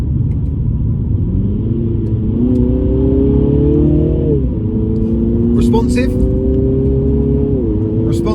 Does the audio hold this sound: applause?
no